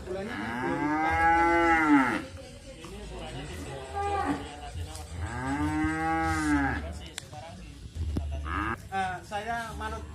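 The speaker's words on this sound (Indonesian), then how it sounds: "perkembangan sapi pedetan ya ada di depan saya ini" Young calves in a farm cattle pen moo loudly in two long drawn-out calls, with a shorter bovine call near the end and a person talking in the background.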